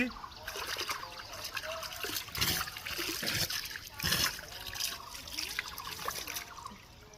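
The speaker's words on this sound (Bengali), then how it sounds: "ও বাবা, অনেকদিন পরে পুকুরে গোসল করতেছি।" Water splashes and trickles near and fairly loud from someone bathing in an algae-covered village pond with brick steps, broken by a few sharper splashes that rise above the steady sloshing.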